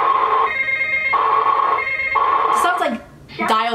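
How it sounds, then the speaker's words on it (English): An early 2000s toy Barbie cash register gives off electronic warbling tones like a dial-up modem, steady beeping bursts followed by rising and falling chirps. "Sounds like dial-up internet."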